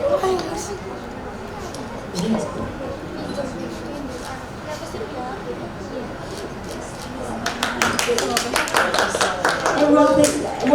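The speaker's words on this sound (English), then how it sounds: "everyone please applause for group 13" An audience at a youth business idea competition claps among lively chatter, scattered at first and swelling into fuller, louder applause over the last few seconds.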